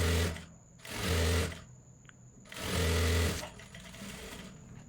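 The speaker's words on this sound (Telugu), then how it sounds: "ఇలా నేను సైడ్ స్టిచ్ చేసుకుంటూ వెళ్తున్నాను." Domestic sewing machine stitching the side seam of a kids' jumpsuit, running in two loud, close bursts of fast whirring with a quieter pause between and a softer run at the end.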